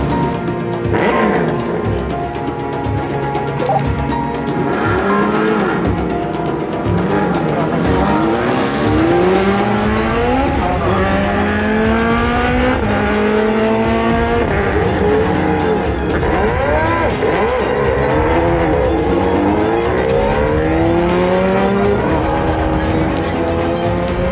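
GT World Challenge race cars at the Mandalika circuit roar loudly and continuously on a wet track, engine notes rising and falling as they accelerate and shift, with squealing tires mixed in.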